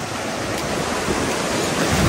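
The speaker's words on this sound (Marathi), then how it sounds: "लाटा येत आहेत." Sea waves breaking on the beach at Shrivardhan as the tide comes in, a loud, steady, close wash of surf with no pauses and no voices.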